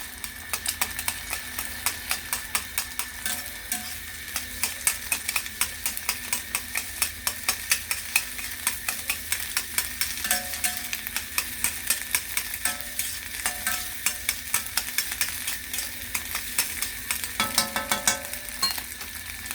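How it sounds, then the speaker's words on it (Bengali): An egg being fried in oil in a pan and broken up into scrambled bits for noodles, with a steady loud sizzle and a fast, regular scraping of the spatula against the pan throughout. "প্রথমে ডিমটা আমি ভেজে নিচ্ছি"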